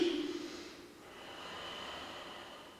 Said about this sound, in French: Respiration thoracique.